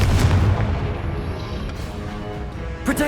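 A Confringo blasting spell exploding in Hogwarts Legacy on PS5: a loud, dense booming rumble that fills the whole stretch without a break, with a brief extra crack near the end.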